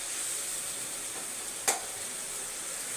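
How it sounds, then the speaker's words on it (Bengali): Spiced food frying in oil, a soft steady hiss of sizzling with a single sharp clink of a utensil midway, quiet and with no voices. "ভালো করে ভেজে নিলাম"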